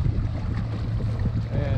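Wind buffets a fishing boat running out through Matlacha Pass off Pine Island while trolling hard baits, a steady low rumble of engine and water rushing underneath, continuous and fairly loud with no break.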